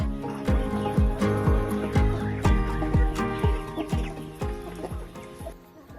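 Ayam Cemani chicken clucking in steady, rhythmic bursts, close and fairly loud, with a repeated pulsing pattern of low clucks throughout and no voices.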